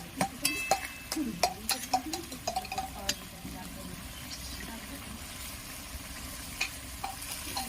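A pointed gourd curry with fried sesame seeds bubbles and sizzles softly in a pan, with scattered clicks and stirring scrapes early on and a steady low simmer after.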